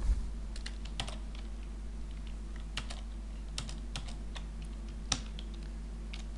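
Keys tapped on a computer keyboard in a quiet room, scattered irregular clicks with a few sharper strokes over a low steady hum.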